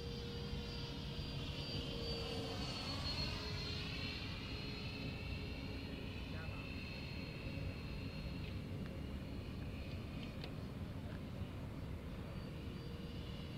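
A T45 aircraft at Xisheng airfield drones steadily as it prepares to land, with a continuous engine roar and slowly shifting whine, constant in level throughout.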